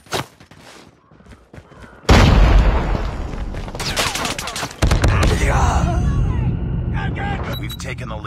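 A grenade goes off in a Call of Duty Mobile multiplayer ranked match, a loud sudden blast followed by sustained gunfire and explosive rumble, with a player's voice over the game sounds.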